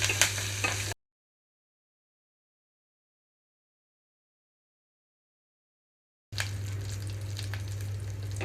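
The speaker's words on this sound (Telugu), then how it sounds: "మధ్య మధ్యలో కలుపుకుంటూ వేయించుకుంటున్నానండి" Green chillies, grated coconut and curry leaves fry in a pan with a soft, crackling sizzle that cuts out abruptly into silence for several seconds and then returns at the same low level.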